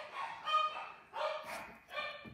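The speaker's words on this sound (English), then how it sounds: "I'm sorry if you can hear my dogs in the background." Several dogs bark in a steady run of sharp yips and barks, fairly close, with brief pauses between bursts.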